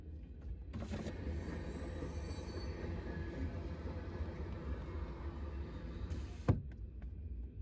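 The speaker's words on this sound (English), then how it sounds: "We got a train right here." A train passing Union Pacific's Cheyenne depot, including a Southern Pacific boxcar, rumbles steadily with a dense, continuous roar of wheels on rails, rising briefly into a sharp squeal near the end.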